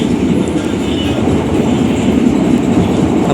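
The Java Priority passenger train rolls along the rails in Indonesia, a loud, continuous rumble with rhythmic clickety-clack from the wheels, heard close from inside the carriage with no talking.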